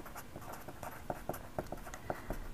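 Handwriting out a derivative in a maths lesson, a steady run of soft, close pen or marker strokes scratching in short rhythmic bursts, quiet and without speech.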